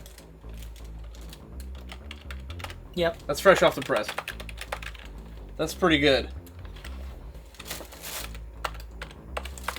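Keys clack on a Sega Dreamcast keyboard in quick, uneven bursts of typing, close and clear, while several people chat casually over it.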